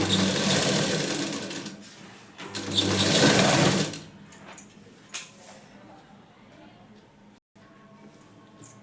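A sewing machine stitches the side seam of a blouse in a steady, loud run of several seconds, then stops, leaving softer clicks and fabric handling in a quieter room.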